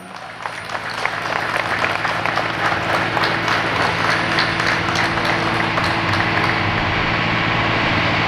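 A crowd at an outdoor anniversary celebration and horse parade claps for the municipal president, a steady dense applause that lasts throughout, over a low constant hum.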